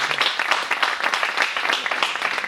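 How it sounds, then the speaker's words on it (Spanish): Audience applause at a public presentation for a local mysteries association, a dense, steady burst of many hands clapping alone for a couple of seconds. "por favor un aplauso para Pedro."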